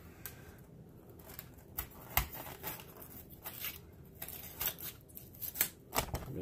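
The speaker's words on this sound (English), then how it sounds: "It doesn't fit perfectly, but that's because we got a piece sticking out there, so we're gonna cut that off." High density foam for a tabletop terrain board gets trimmed where a piece sticks out, making soft, quiet scattered snips and scratchy rustles.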